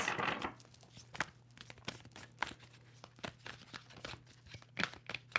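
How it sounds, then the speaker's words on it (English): Tarot cards riffle and snap in repeated quick bursts, a crisp papery flutter close by, with short pauses between shuffles. "Two more shuffles for Aries."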